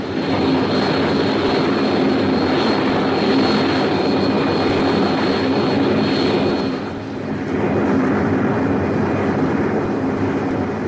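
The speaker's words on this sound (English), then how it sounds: "You hear the roar after the bombers have passed over your head." Jet bombers roaring overhead, a loud, sustained engine rumble with a broad rushing roar that dips briefly and then swells again, heard alone without any voices.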